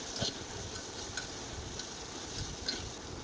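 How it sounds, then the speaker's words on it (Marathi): Onion sautéing in hot oil in a pan, a steady soft sizzle and frying crackle with light stirring scrapes, close and fairly quiet with no talk. "कांदा छान असं परतून घ्यायचा आहे"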